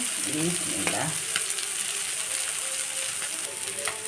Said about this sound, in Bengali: মাছটাকে লবণ হলুদ দিয়ে ভেজে নিলাম আর একটু তেল দিয়ে দেবো